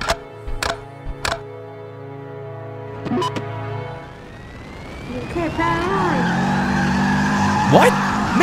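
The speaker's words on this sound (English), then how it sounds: "Mink's driving on two wheels! This is amazing!" A cartoon car skids and squeals its tires while driving on two wheels in a racing scene, engine revving under music and sharp percussive hits, with a long rising screech in the second half.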